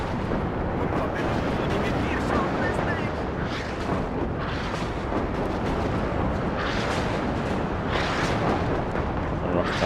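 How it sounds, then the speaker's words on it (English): Rocket artillery striking in the WARNO strategy game, a dense continuous rumble of overlapping explosions and crackling bursts, distant and sustained with no clear gaps. "The rocket artillery was pretty spot on."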